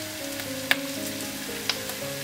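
Curry leaves, turmeric and curry powder sizzle in hot oil for a cabbage stir fry, a steady soft crackle with two sharp pops and a low background hum, no talking.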